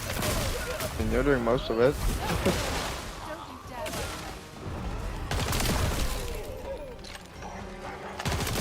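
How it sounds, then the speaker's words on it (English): Game explosions boom and crackle in several loud bursts, partly under steady talk from players. "there's some extra explosions going on"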